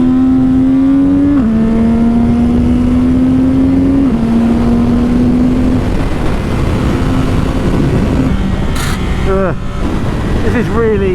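CFMOTO 675 SR-R supersport motorcycle ridden at speed, its engine droning loud and close with stepped pitch drops at gear changes, then rising revs, under heavy wind rush.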